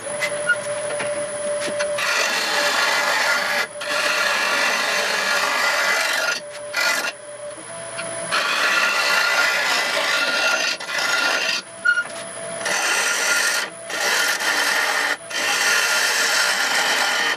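A lathe gouge, held at its tip, cuts a dry hackberry wood bowl with a steady rasping scrape in long passes broken by brief pauses, loud and close.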